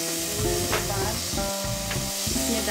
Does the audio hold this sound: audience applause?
no